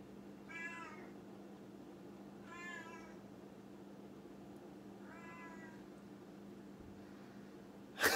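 A female cat meows three times indoors, with each drawn-out call separated by a few seconds of quiet, against a steady low hum.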